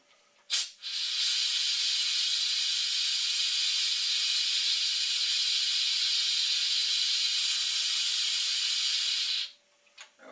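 Pressure hissing out of a homebrew beer keg valve in one steady, loud, close burst lasting about nine seconds after a brief click, then cutting off abruptly, with no talking.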